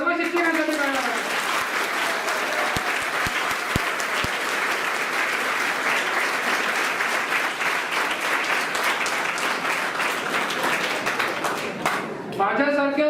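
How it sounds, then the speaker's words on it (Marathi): Loud, sustained applause from an audience at a Teacher's Day celebration, dense continuous clapping for the teachers lasting throughout before fading near the end. "एकदा सर्वांनी जोरदार सर्व शिक्षकांसाठी टाळ्या वाजल्या।"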